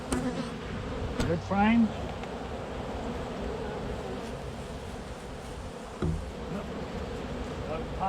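Bees hum steadily around an open hive during a late December hive check, a continuous close drone with a brief louder burst of buzzing. A person speaks briefly over it.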